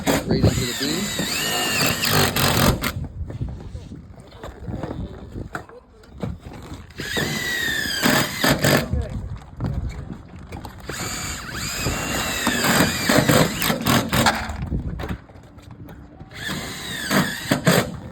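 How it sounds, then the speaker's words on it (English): A power drill drives screws through an R-panel insulated metal roof panel into a beam on a commercial roof, in several bursts of whirring and grinding with short pauses between, loud and close, while people talk nearby. "it gets a screw right down the middle, right into the beam"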